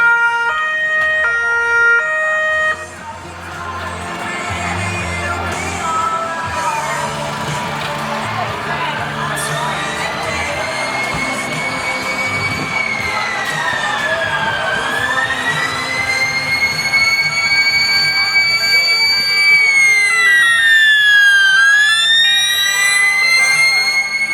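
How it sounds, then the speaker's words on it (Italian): Sirens from an Italian Red Cross 118 ambulance and fire brigade vehicles arriving at a fire station demonstration; a loud, sweeping wail builds and swells through the clip over background crowd noise. "È arrivata anche la Croce Rossa italiana con l'unità del 118."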